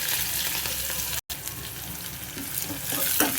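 Onions and green chillies with curry leaves sizzle steadily in oil in a pan, a dense continuous frying hiss with a brief cut partway through and occasional stirring scrapes, no talking.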